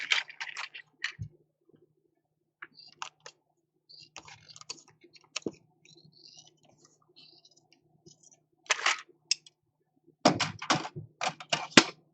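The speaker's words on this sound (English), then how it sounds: "Let's get it open quick with a small pair of scissors." A small pair of scissors snips open a model kit's packaging in short, crisp clicking bursts separated by quiet gaps, with a busier cluster of cuts near the end.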